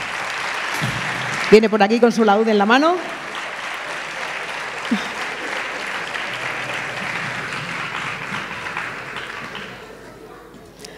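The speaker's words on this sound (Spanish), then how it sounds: "Le damos un aplauso a Juan Pedro." A theatre audience at a Christmas carol concert by a choir and dance group applauds Juan Pedro. The clapping swells in after a brief plucked lute phrase, then holds steady and fairly loud for several seconds while someone speaks over it, before tapering off.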